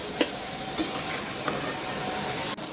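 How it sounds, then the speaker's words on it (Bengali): Steady sizzling of paneer pieces frying in hot oil, with a few soft clinks of a utensil stirring the pan. "গরম তেলের মধ্যে দিয়ে ভালো মতো করে নেড়ে ভেজে নিচ্ছি"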